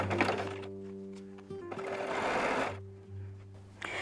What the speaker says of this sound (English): And I'll sew that together and show you what it looks like.